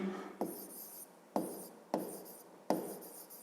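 A pen writes on paper during a fifth-grade maths exercise, making four distinct scratchy strokes in an even rhythm, close and fairly quiet, with no talking.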